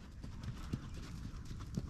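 Tennessee Walking Horse hoofbeats during a flat walk lesson, a steady clip-clop of several soft, close hoof strikes over a low background rumble.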